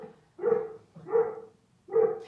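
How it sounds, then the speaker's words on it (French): A dog barks three times in an even rhythm, each bark fairly close and clear with short silent gaps between, no other sounds around. "si tu ne le fais pas rentrer, il va continuer à aboyer"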